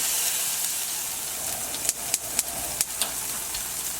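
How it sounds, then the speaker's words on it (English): Cheese cubes fry in hot olive oil in a frying pan, giving a close, steady sizzle with several sharp crackling pops in the middle and no talking. "So I've got some olive oil heating on a frying pan here."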